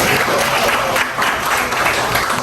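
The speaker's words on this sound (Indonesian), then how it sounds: "Tepuk tangan dulu buat saya." Applause from an audience during a teacher training session, dense continuous clapping filling the short stretch at steady loudness with no voices over it.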